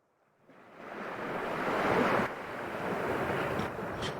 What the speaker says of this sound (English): Complete silence apart from the monotonous murmur of the waves.